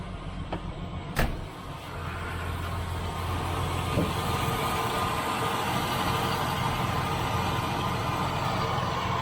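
A TB42 engine fitted with a Holley 350 carburetor idles steadily in a GQ Patrol at roughly 900 RPM, a continuous low rumble that builds slightly after a sharp click near the start.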